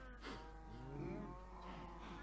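A cow on a Minecraft cow farm gives a single drawn-out moo, close and clear over a steady low background hum.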